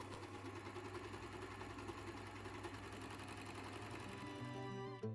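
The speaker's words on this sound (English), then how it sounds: "I'm just sewing up the side seams with right sides together and then the shoulder seam" Domestic sewing machine stitching the side and shoulder seams of a dress, a steady, close mechanical whir with a fast even needle rhythm running without pause, slowing at the very end.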